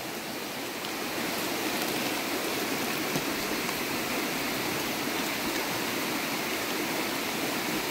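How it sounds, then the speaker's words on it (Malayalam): A forest stream flowing along the edge of a plot of land gives a steady, dense rushing wash of water, close and constant throughout. "ഇതാണ് ഈ സ്ഥലത്തിൻ്റെ സൈഡിൽ കൂടെ ഒഴുകുന്ന തോട്."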